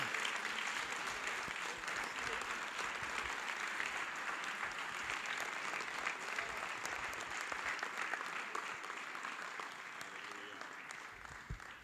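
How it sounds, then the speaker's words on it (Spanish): A church congregation applauds steadily for the full stretch, a dense even wash of clapping that thins slightly toward the end, with no clear talk over it. "¿Cuánto le damos un aplauso al Rey de Reyes"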